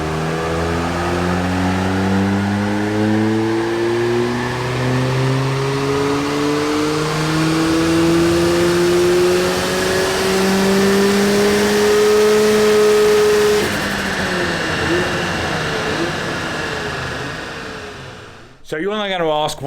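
A turbocharged Nissan Micra K11 engine revs hard on a dyno pull, its rising pitch climbing steadily for about fourteen seconds at full load, then falling back as the throttle closes, loud and close throughout.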